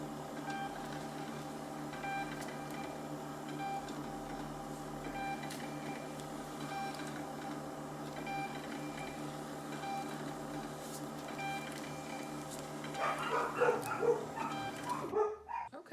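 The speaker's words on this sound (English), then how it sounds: "I'm buying my shipping labels, and then we're going to print them" A printer works through shipping labels with a continuous, steady mechanical whir and buzz that holds for the whole stretch, rising into louder, busier clatter near the end before cutting off, with no talking.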